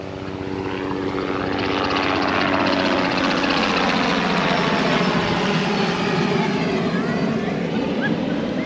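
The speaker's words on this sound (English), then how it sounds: "You never really notice how many helicopter tours they do until you start to record a video." A tour helicopter passes overhead in a steady, loud, continuous engine and rotor drone that fills the whole stretch with no break.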